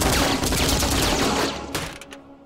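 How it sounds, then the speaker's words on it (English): A cartoon Gatling gun firing in a dense, loud continuous rattle of rapid shots that cuts off and fades near the end. "I don't have any idea how to work the Gatling gun"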